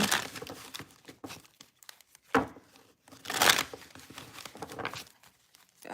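Tarot cards are shuffled by hand in irregular bursts of papery riffling and crinkling, close and fairly soft, with brief pauses between shuffles.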